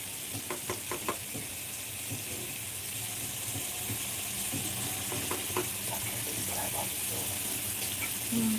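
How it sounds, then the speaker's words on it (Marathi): Paneer frying in a pan over low heat: a continuous close sizzle with occasional stirring clicks and scrapes, steady in level, and a faint voice briefly near the end. "पनीर फ्राय करून घ्या"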